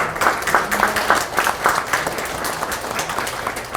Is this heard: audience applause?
yes